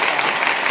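Applause from the audience at a live poetry show, a dense and steady wash of many hands clapping, loud and close, with no gaps.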